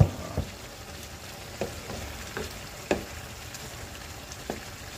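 Spareribs with potato and banana sizzle in a pan while being stirred, a steady frying hiss broken by several distinct clacks and scrapes of the utensil at irregular intervals, close and with no talk.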